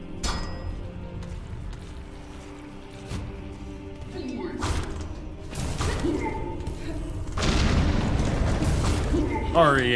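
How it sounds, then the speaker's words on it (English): Explosions in the video game Hollow Knight Silksong: a few deep booms and bursts go off one after another, growing louder and heavier toward the end, while a voice talks in the background. "Oh yeah, there's explodey stuff"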